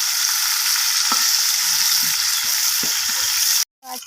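Bhola fish frying in oil in a wok, a steady close hiss with a few soft clicks of turning, ending abruptly in a brief silence and a faint knock.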